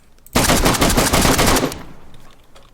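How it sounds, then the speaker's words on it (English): Rapid bursts of gunfire in the video game DayZ, a loud continuous volley of overlapping shots lasting over a second, then fading into a decaying echo. "That was just me returning fire onto him."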